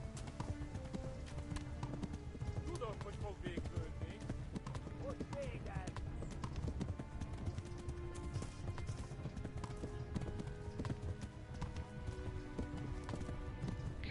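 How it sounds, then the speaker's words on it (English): A horse gallops in the video game Kingdom Come: Deliverance, its hoofbeats a steady, fast clip-clop running throughout. A voice and background game sound sit beneath the hooves. "Come on, gallop, horse."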